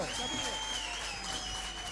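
Steady, faint applause from a live show audience, a dense wash of claps heard at a distance under a sustained tonal hum.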